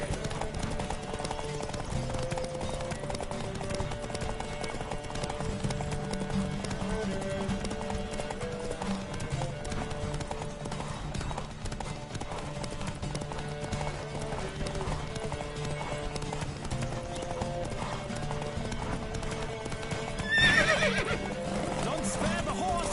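A horse gallops in a horse race in a video game played on PS4, its rapid rhythmic hoofbeats running continuously with occasional whinnies, while game voices and background music play along.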